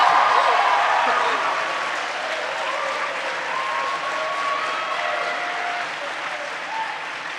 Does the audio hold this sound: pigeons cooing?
no